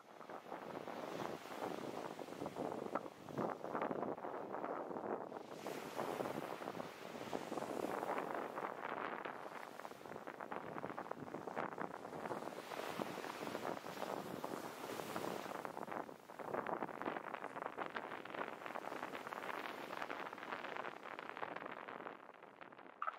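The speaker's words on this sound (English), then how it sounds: "So you can hear the wind. The waves are washing up." Wind gusting across a microphone on a North Shore beach while waves wash up on the sand, a broad, fluctuating rush that rises and falls in surges for over twenty seconds, fairly faint, with no speech.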